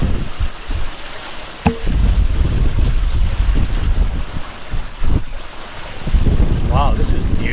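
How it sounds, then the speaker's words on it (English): A sailboat heels along under jib and mainsail in a stiff breeze, with loud roaring wind buffeting the microphone, water rushing past the hull and occasional creaks from the rigging. "We are really sailing here."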